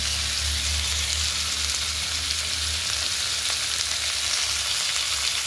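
Potatoes frying in hot oil in a home kitchen pan, a steady loud sizzle with a low bubbling rumble underneath, continuous and close with no talking.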